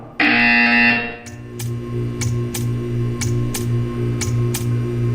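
A loud, harsh buzzer in Portal 2 blares for under a second, then a low hum continues with evenly spaced soft ticks repeating in the background.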